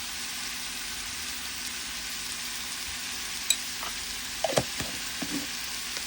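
Tomato with turmeric, red chilli, garam masala and ginger-garlic chutney frying in a pan gives off a steady, fairly faint sizzle, broken near the end by a few sharp spoon scrapes and taps as it is stirred.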